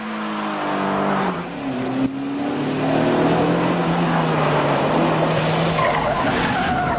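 A 1991 Renault Clio 16S races around the Montlhéry road circuit, its engine note rising and falling with tires squealing and skidding through corners, loud and close throughout with no talk.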